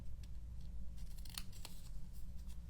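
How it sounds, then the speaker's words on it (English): Scissors cutting through paper card for a stamped pop-up card, a few quick close snips and slices over a low background hum. "and then you're going to cut from the edge"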